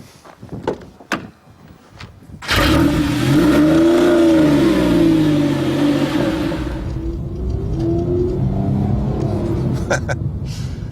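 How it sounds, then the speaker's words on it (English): A Porsche 911 Turbo engine fires up after some faint clicks and knocks, then holds a loud, deep rumble with a rising and falling rev as the car rolls at low town speed. "the engine sounds at its best when you're going 14 miles an hour"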